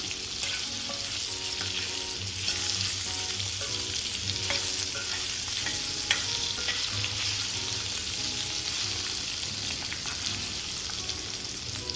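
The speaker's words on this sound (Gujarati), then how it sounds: "અને હવે આ રીતે ચમચાની મદદથી બધી વસ્તુને મિક્સ કરી લઈશું" A spoon stirs raw mango curry in a hot pan, steady close frying hiss under light repeated scraping and clinks against the metal, continuous for the whole stretch with no talking.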